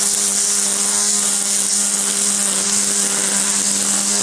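A Greenworks 80V cordless string trimmer runs at a steady high-pitched electric whir close by, a continuous buzzing drone without pauses.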